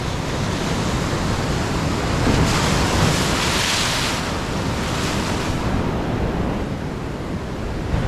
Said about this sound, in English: that last wave just soaked me, just swamped me